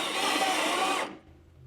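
A power drill whines steadily and loudly, boring holes through wooden floor framing on a budget house build, then cuts off abruptly to a quiet room hum.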